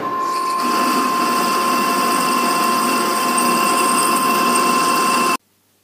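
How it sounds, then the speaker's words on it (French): A conventional metal lathe parts off a steering ball-joint workpiece at 54 mm length, making a loud, steady whining hum with a fixed high tone that runs unbroken and then cuts off abruptly near the end. "Je tronçonne ma pièce à une longueur de 54."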